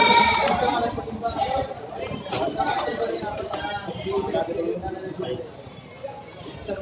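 Goats bleating close by, several overlapping calls, while people chatter in the background.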